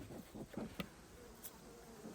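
Faint buzzing of honeybees at a hive during an autumn colony inspection, drifting near and far, soft and intermittent against a quiet background.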